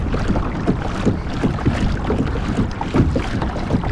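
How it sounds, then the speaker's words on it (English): Water rushes and swishes behind a pedal-driven Hobie Outback kayak, a continuous close wash with soft rhythmic surges, wind noise buffeting the microphone. "I can hear the wake forming behind me."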